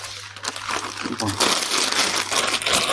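A plastic piping bag fitted with a straight number 16 nozzle crinkles and rustles as it is handled in a kitchen while baking petit four biscuits, a steady close crackling with a person talking over it.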